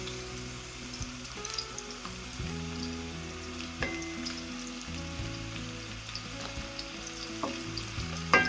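Kofta balls fry in a pan with a steady, moderate sizzle and crackle. Occasional clicks and taps from stirring or turning break through, and no one speaks.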